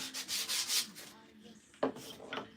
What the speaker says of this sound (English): we're just sanding these now